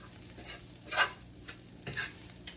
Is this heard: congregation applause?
no